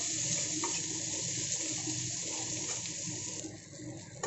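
Green chillies and onion frying in hot oil with whole spices, a close, steady crackling sizzle that runs evenly and fades slightly near the end, without voices.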